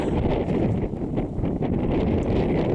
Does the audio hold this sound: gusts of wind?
yes